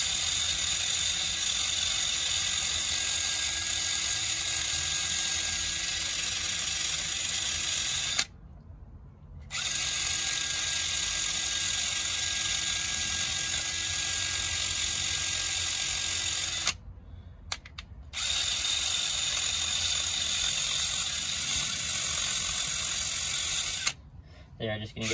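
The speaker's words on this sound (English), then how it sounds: "A wire brush on the drill." A power drill fitted with a wire brush scrubs old brake parts during a rear drum brake job on a Mazda Tribute. It makes a loud, steady whirring rasp that stops briefly three times and then resumes.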